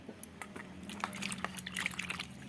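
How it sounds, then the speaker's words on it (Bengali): A ridge gourd is washed gently by hand in water, soft splashes, trickles and drips coming in uneven bursts close by and fairly quiet. "এইভাবে আস্তে জলে ধুয়ে নিচ্ছি"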